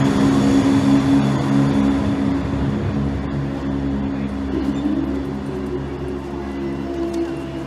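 A Nottingham train idles at a station, a steady low diesel hum with tonal whine held throughout, fairly near, with no voices.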